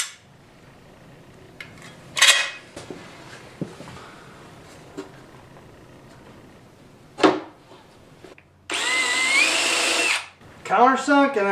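A cordless drill drives number 6 Phillips flathead screws into truck camper kitchen paneling in short bursts with quiet gaps between them, ending in a longer whirring run and a few rattling clicks.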